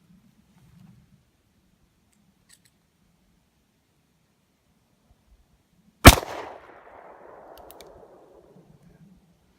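A Smith & Wesson 686 Plus revolver with a 3-inch barrel, cocked to single action, fires one loud, sharp shot after several seconds of near silence. The report rings and decays over the next couple of seconds.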